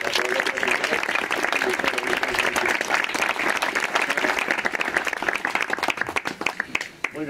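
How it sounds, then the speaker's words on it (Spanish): Sustained applause from a crowd at a memorial tribute and burial ceremony in Fuencalderas, dense steady clapping filling the whole stretch and tapering slightly near the end. "quiero pedir un aplauso tanto para Martín como para los dos"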